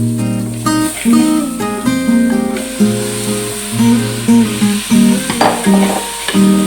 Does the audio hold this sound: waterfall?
no